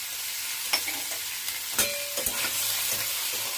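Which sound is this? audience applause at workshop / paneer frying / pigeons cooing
paneer frying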